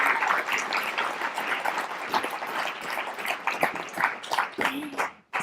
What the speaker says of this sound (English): if we could give him a round of applause for being here